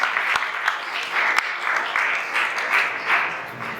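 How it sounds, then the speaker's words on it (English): A hall full of listeners at a youth talk breaks into steady, moderately loud clapping with a few sharp individual claps standing out, lasting several seconds. "Big round of applause."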